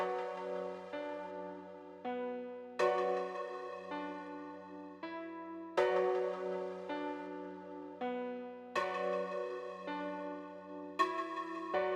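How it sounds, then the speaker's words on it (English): An Electra X synth melody using the Physical Fantasy preset with reverb, struck bell-like notes in a repeating phrase that ring and decay into a reverberant tail, played alone at a moderate level. "I went into Electra X, and I got this preset right here called Physical Fantasy."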